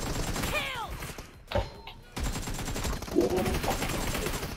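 Gunfire from PUBG Mobile, a few short bursts of shots mixed with game effects, heard under an excited player voice talking in Turkish and with a brief quiet gap in the middle.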